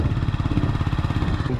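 A 2022 CF Moto Papio motorcycle idles nearby, its engine giving a steady, low throbbing pulse with even beats and no revving.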